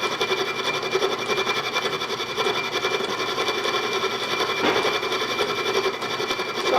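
Router bit cutting a chamfer into a bolt, giving a steady, continuous high-pitched whine with a dense grinding texture that runs without a break throughout, up close and loud.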